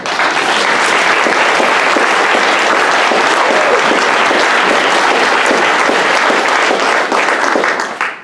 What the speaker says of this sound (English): we should give these folks a big round of applause